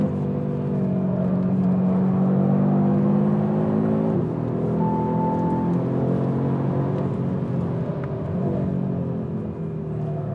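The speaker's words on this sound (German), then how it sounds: "Jetzt lasse ich ihn leicht untersteuern, aber wenn ich nicht möchte, sage ich, okay, ich gehe aufs Gas." The new Audi RS3 in performance mode pulls hard with a steady engine drone and whir heard from inside the cabin. The loud, continuous sound shifts pitch as it accelerates, with no talking.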